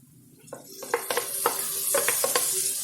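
Roasted ridge gourd is stir-fried with spices in a pan, giving a steady sizzle that rises over time, broken by several sharp scrapes and clanks of the spoon against the pan.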